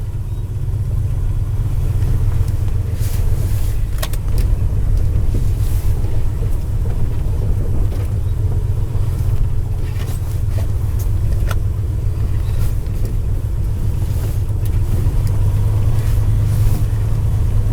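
1978 Ford F250 pickup truck driving after being shifted into drive, steady low engine and road rumble heard from inside the cab with wind noise throughout.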